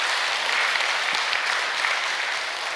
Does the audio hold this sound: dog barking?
no